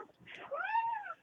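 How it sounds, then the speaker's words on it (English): A small cat gives a single short, rising-then-falling meow up close, preceded by faint soft rustling. "Did you hear her meow? Her little meow."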